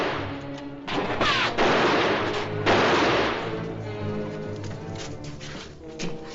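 Gunfire in a Western shootout at a canyon well, a loud continuous racket of shots and hoofbeat-like clatter that swells and fades across the clip with no clear talk.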